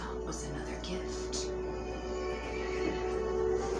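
A horse neighs in a Resident Evil Village cutscene, a few short whinnies over low droning music with a steady hum, fairly faint.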